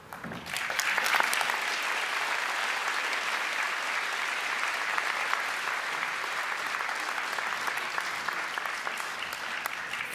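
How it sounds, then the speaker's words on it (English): An audience claps at a university graduation ceremony in a hall, a dense, steady round of applause rising quickly and holding evenly at moderate volume from a large crowd. "I will be reading out the student's name and title, so please applaud afterwards"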